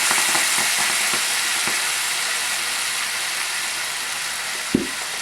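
White wine and dry vermouth sizzle loudly in a hot pan with tomatoes, a steady close hiss with faint clicks of stirring and one brief knock near the end.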